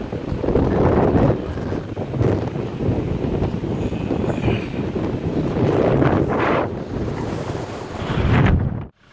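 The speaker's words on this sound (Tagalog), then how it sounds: "Napakalakas ng hangin." Strong gusty wind roars steadily and loudly around an outdoor telecom tower site as rain approaches, with heavy buffeting across the microphone and a few stronger surges before it cuts off abruptly at the end.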